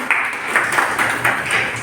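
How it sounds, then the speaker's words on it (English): Classroom group of students clapping for a classmate who guessed correctly in an English-practice game, a steady patter of hands at close range with no talk over it. "Let's clap for"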